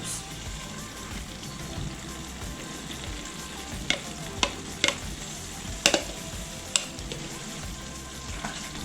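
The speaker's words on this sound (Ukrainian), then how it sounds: "Перемішую і надалі тушкую на середньому вогні" Steady sizzling of mushrooms in tomato sauce simmering in a pan over medium heat, with a few sharp clinks of a utensil stirring against the pan.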